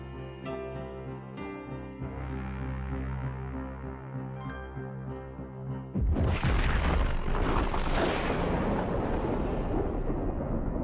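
A deep explosion erupts suddenly partway through, cutting in after sustained tonal drones and swelling into a loud, continuous rumbling roar that holds to the end.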